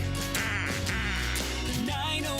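Duck quacks used as a sound effect in a radio plumbing advert, a few loud, nasal honking calls in quick succession over music.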